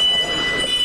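A train arriving at a station, a brief steady rumble with a thin high squeal or whine running through it, loud and close.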